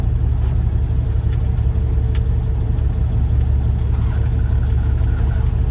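A semi truck's engine runs steadily as the rig is swung sideways before backing a trailer in, a loud, constant low diesel rumble close by with no talking.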